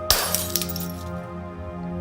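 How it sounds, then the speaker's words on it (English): A mirror smashed into pieces with a hammer: a sharp crash of breaking glass, a few more quick clinking hits, then tinkling shards ringing and fading away. "smashed it into a million pieces."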